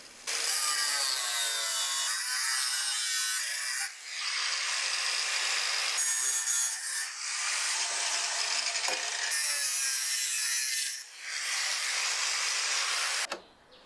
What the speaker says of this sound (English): I then marked all the cut and bend lines before cutting out the bracket with my grinder